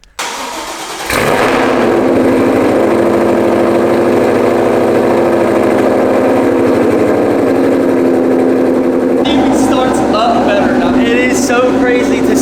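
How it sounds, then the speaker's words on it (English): A Ford F-150 V8 cranks and catches after a tune, then settles into a steady, loud idle that holds for about ten seconds. "the way she starts and idles after the tune is just so much cleaner"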